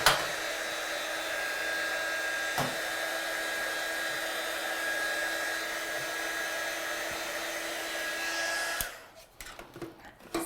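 Heat gun blowing over a freshly stamped card on a carrier sheet, a steady loud whooshing roar that runs for about nine seconds before cutting off, leaving faint handling noises.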